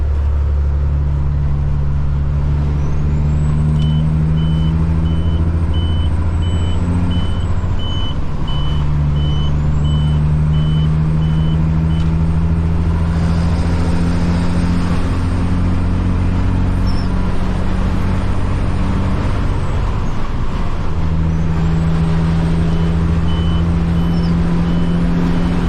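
A loud truck with a Caterpillar C-15 engine on a forklift mast delivery, its steady low diesel drone filling the cab on a rainy day, with a reversing alarm beeping repeatedly nearby.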